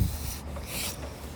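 Brief sandpaper rubbing on wood while refinishing a thrifted home decor piece, a steady soft scratchy scrubbing close by with no talking.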